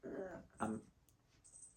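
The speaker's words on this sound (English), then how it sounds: "That's my dog, sorry." A dog whimpers indoors close by, giving two short whiny cries followed by a fainter high whine in a quiet room.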